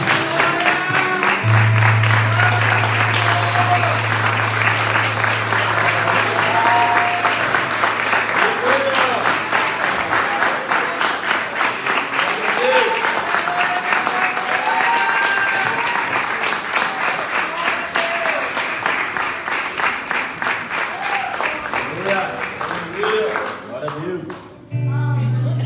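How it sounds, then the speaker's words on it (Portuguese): Sustained applause from a church congregation filling a room, steady and loud for a long stretch, with voices mixed in before it tapers off. "Que as palmas louvem ao Senhor."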